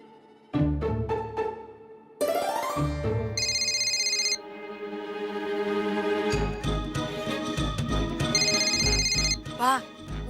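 A telephone rings in a household, with bright repeating electronic ring bursts heard twice amid ongoing music and voices talking.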